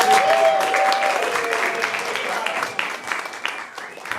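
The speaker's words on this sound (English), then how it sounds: "another round of applause for the judges" An audience at an improv comedy tournament applauds the judges with a burst of clapping that thins out over a few seconds, while a voice and stray cheers mix in.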